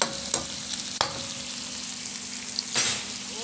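Vegetables and liver frying in a pan give a continuous close sizzle, with occasional sharp clicks of a utensil stirring against the pan and no talking.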